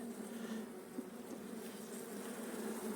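A close, steady buzzing of many honey bees in a hive in spring, a continuous drone with no pauses or talking.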